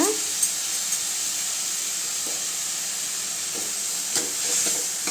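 Tomatoes sauté with onions and salt in a pan, giving a steady, fairly loud hiss and sizzle with occasional faint stirring taps.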